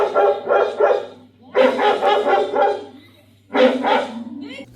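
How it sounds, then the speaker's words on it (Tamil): A dog barking at night around 1:30 in the Bigg Boss Tamil house, loud repeated bark bursts in three clusters with short pauses between, close and alone. "நாய் குலைக்குதுங்க."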